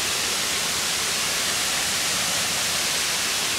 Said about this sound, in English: now we're almost to the bottom of the falls.